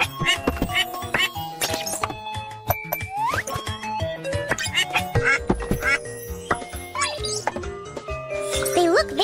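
Repeated cartoon duck quacks sound in a children's animal-rescue game, Baby Panda's Bird Kingdom. They come in short bursts over bright background music, with other small clinks and thunks scattered through.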